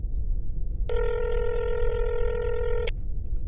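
A single steady electronic ringback tone of about two seconds on an outgoing phone call, heard alone over a low hiss.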